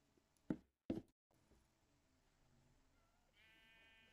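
Minecraft sheep give two short, close bleats in quick succession, followed by a quiet in-game stretch and a faint tonal chime near the end.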